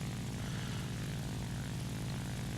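A Ki-84 propeller fighter's piston engine drones at a steady, continuous roar in a War Thunder realistic battle, alone with no talking.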